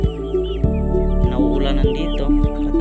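Chickens clucking nearby, several short repeated clucks over a steady low background hum, no talking.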